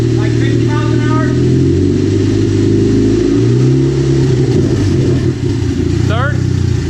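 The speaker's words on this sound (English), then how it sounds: "Driving like 50 miles an hour." A turbocharged Chevrolet Cobalt SS pulls through the gears at around 50 mph, its engine droning loudly with rising and falling pitch and a brief shift dip, while people talk over the engine noise inside the car.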